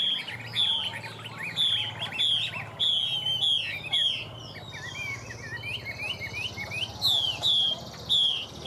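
Repeated clear whistled phrases from a wild-caught Chinese hwamei songbird in a cage, loud and close, with short pauses between bursts over faint background insect chirping and low hum.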